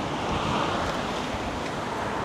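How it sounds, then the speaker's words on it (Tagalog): Strong wind rushes steadily at a night market in Jeju, South Korea, a broad continuous roar buffeting the microphone with no voices. "Ang lakas ng hangin,"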